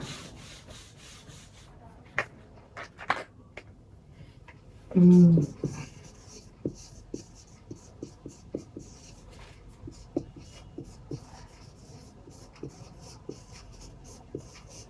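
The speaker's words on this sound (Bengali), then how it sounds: "আরেকটা উদাহরণ লিখি।" Chalk or marker strokes on a classroom board during an English grammar lesson, a series of short scratchy taps and rubs scattered through the clip, with one louder thump near the middle.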